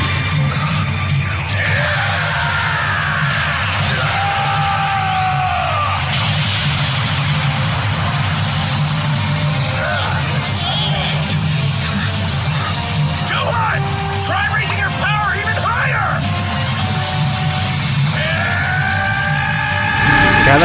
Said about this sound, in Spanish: Cada grito es más intenso que el otro.